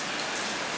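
Steady rain pours down outdoors during a heritage day gathering in Sainte-Agnès, a continuous dense hiss filling the short moment with no voices over it.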